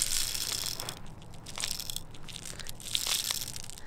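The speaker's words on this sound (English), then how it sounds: "then just dump them into the hole till basically the BB line gets up to this back hole" BBs poured into the magazine of a Crosman A4P full-auto AR-style BB pistol, a continuous close rattling, crunching hiss that swells and fades over several seconds.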